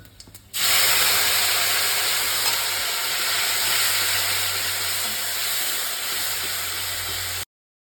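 Spice paste dropped into hot oil with dried red chili and whole cumin, bursting into a loud, sustained hiss that holds steady for several seconds before cutting off abruptly.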